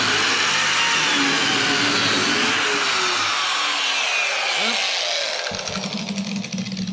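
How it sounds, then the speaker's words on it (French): Biscuit joiner cutting slots in wood while building a multimedia cabinet, a loud continuous high-pitched whine of the blade biting into the board that winds down near the end, with no talking. "je fais mes lamelles du même côté"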